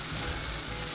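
Food sizzles and fries steadily on a hot discada, a close, continuous crackling hiss with low rumbling pulses underneath and no talking.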